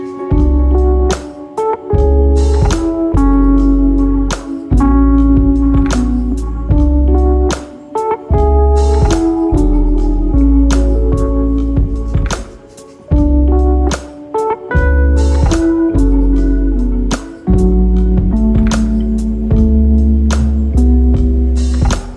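A laid-back lo-fi hip hop beat made in FL Studio 20 loops steadily, with punchy drums, a deep bass line and mellow melodic chords, playing continuously with brief drops.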